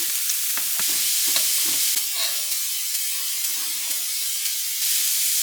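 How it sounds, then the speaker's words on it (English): Drained vegan hash browns hit a hot pan and fry with a loud, steady sizzling hiss, with light clatters of stirring breaking through the bright crackle. "Now I've drained the hash browns and I'm just going to add them right in."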